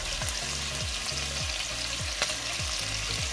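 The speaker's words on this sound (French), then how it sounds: "on va faire revenir notre viande" Beef pieces browning in a hot pan for bœuf bourguignon, a steady dense sizzle of frying meat running throughout, close and even, with low rhythmic scraping tones underneath and no voices.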